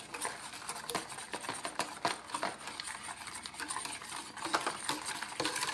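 A spoon stirs sugar into milk and cream in a pot, giving irregular light scraping and tapping clinks against the side, close and fairly quiet, with no voices.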